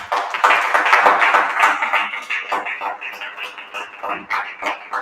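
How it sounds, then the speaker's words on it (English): An audience at the Acabado Meet and Greet, a baking event, claps in an uneven, irregular round that stays fairly loud and close, with some tapping mixed in. "Acabado deserves a round of applause now"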